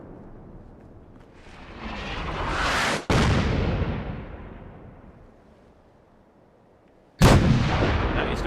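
Heavy gunfire in the game Fallout 4, a continuous roaring barrage that swells, cuts off abruptly, resumes and fades, then bursts back in loudly at the end, with no talking.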